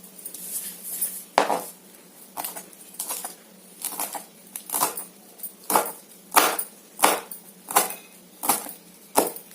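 A kitchen knife chops washed curry leaves on a board in a steady series of about a dozen sharp, close taps, each crisp and distinct, without any talk.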